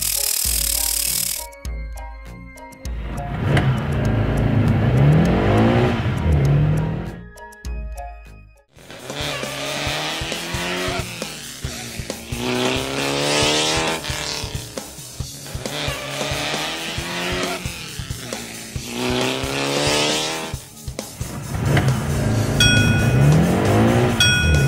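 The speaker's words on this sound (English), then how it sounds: "Sports car." A sports car engine revving in repeated rising and falling surges, loud and close, with squeal-like tones and music-like segments between, no talk.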